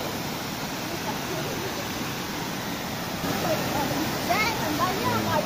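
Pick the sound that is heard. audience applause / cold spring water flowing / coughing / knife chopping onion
cold spring water flowing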